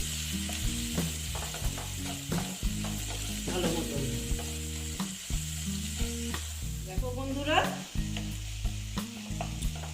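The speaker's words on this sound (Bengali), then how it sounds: "তারপরে দিচ্ছি নুন দিয়ে এটাকে আমি আবার ভেজে নিচ্ছি" Koi fish frying with salt and spices in a pan gives a steady sizzle broken by repeated clattering stirs and scrapes, with someone briefly talking over the cooking.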